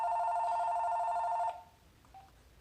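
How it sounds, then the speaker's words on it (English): A phone rings with a steady, loud electronic tone for about a second and a half, then cuts off, leaving a quiet room during a hand-building clay coil session. "oops, phone's ringing, sorry everyone."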